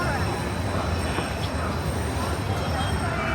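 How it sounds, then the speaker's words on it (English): A Disneyland monorail train passes nearby as a steady, broad rumble with faint rail squeal, mixed into busy theme-park crowd chatter and background voices. "And there's the monorail."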